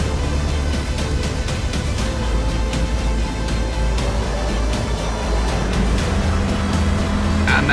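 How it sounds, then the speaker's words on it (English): A Volkswagen Golf race car on Davanti tyres runs on a circuit during an endurance race, its engine a loud, steady drone heard up close for the whole stretch. "And there's Ray Collier heading out on track in the number 15 Golf"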